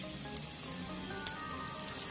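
Mixed vegetables for veg spring rolls sizzle steadily in a hot pan, a loud, continuous frying hiss close up with a few small pops and no talking.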